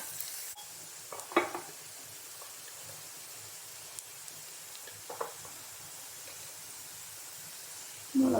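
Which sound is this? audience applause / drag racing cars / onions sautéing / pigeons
onions sautéing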